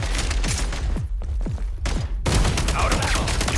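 Rapid video game gunfire rattles in dense, repeated bursts with sharp individual shots, briefly thinning before a heavier volley resumes, loud and close throughout.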